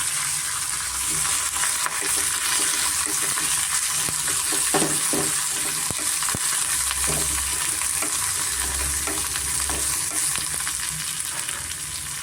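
Chopped ridge gourd frying in hot oil for a chutney, a loud continuous sizzle with intermittent spatula scrapes and stirs against the pan, no talking.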